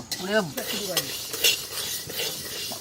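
Moong dal and poppy seeds being dry-roasted and stirred in a pan, with a spoon scraping and clinking against the metal in bursts over a light continuous sizzle, close and fairly clear with no talking.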